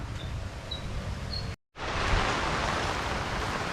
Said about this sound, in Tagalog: Bumanat na naman ang ulan oh.